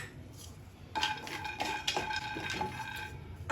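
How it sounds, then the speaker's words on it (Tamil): A spoon scrapes and stirs peanuts roasting dry in a pan, with light clinks and rattles over a soft background hiss, close by. "ஒரு 2 டீஸ்பூன் அளவுக்கு வேர்க்கடலையை வறுத்துக்கலாம்."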